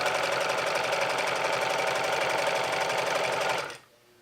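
A sewing machine stitches a straight seam on a dress, a rapid, steady mechanical whir and needle chatter running loud and close for several seconds before stopping abruptly.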